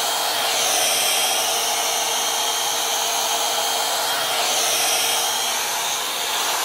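A hot air styling tool with its fan switched on blows across a synthetic wig, producing a loud, steady whirring rush of air with a slight dip in the middle, uninterrupted by speech.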